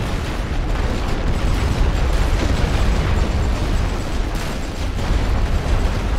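A heavy artillery barrage thunders in a Great War Western Front video game set around Verdun, a dense, continuous roar of overlapping booms and rumbling blasts, loud and unbroken throughout.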